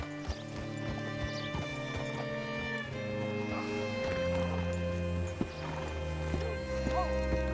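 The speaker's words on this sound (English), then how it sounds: "Hitch your horse up here." A horse in the video game Red Dead Redemption 2 clip-clops along with steady hoofbeats and gives a whinny, set against a sustained musical score with a voice speaking over it.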